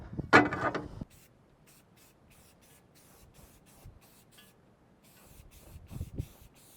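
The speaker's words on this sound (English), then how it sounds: "it's just the Rust-Oleum Rusty Metal Primer used on heavily rusted metal for the ultimate finish" Rust-Oleum Rusty Metal Primer sprayed from a can during floor repair on a Ford Super Duty dump truck, with one short hiss at the start, then quiet handling noises and a faint second burst near the end.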